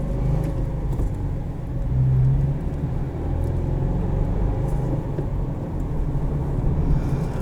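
A 2021 Subaru Crosstrek with a manual gearbox and 2-liter engine driving, a steady low engine drone and road rumble from inside the cabin, swelling briefly as revs rise, no voices.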